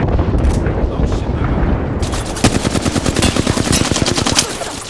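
Rapid automatic gunfire in the Apex Legends battle royale game, loud close bursts of rattling shots with impacts, starting rough and settling into a fast steady rhythm of repeated cracks over game noise.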